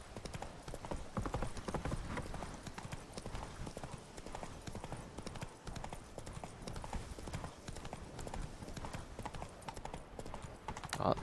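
Roach, a horse in The Witcher 3 video game, trotting with a steady, continuous clip-clop of hooves over a low game soundscape, fairly quiet, with faint talk at times.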